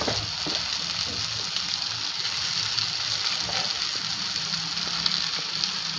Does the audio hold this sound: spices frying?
yes